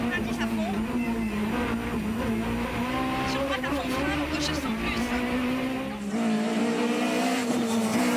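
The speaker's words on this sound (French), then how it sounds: "Charlotte Dalmasso sur Peugeot 208." Peugeot 208 rally car racing in the Rallye des Cévennes, a French rally, with a high, strained engine note rising and falling through gear changes and tyre noise, loud and continuous under commentary.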